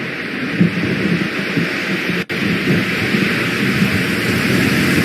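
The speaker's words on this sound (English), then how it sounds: "I just really hate thunder." Thunder with steady heavy rain rolls on continuously in the Xenosaga Episode 1 video game on PS2, a dense, loud storm wash with one brief dropout and no speech.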